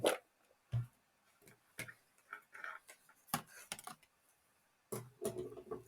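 A Gemini die-cutting machine cuts a gift tag shape from paper, giving sparse mechanical clicks and low thumps spaced irregularly, heard close and fairly quiet with no talk.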